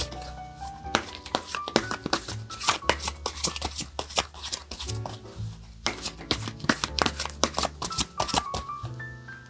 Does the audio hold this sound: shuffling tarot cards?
yes